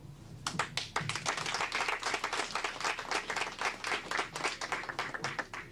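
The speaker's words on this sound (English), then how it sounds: "I think you all should keep clapping." Audience applause and clapping greets a guest being welcomed on stage at an evening Kangen Water demonstration event, a dense and steady burst of many hands that starts after a brief quiet and carries on without talk.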